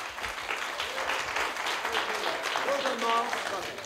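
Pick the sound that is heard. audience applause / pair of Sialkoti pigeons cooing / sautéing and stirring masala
audience applause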